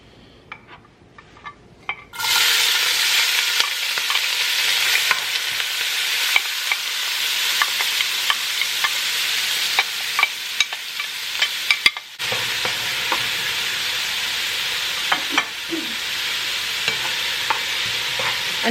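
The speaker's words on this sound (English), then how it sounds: "We're gonna get it heated and then saute our veggies, add in our saltfish and our ackee." Vegetables sauteing in a hot pan for Jamaican ackee and saltfish, a steady close sizzle and frying hiss that starts after a quiet moment, with occasional clinks and scrapes of a utensil stirring against the pan.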